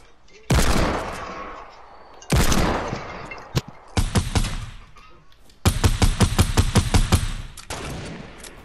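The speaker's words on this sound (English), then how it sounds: "They're still trying to shoot us." Video game gunfire in several loud bursts of rapid shots, separated by short pauses and ending in a long automatic volley, close and sharp with no talking over it.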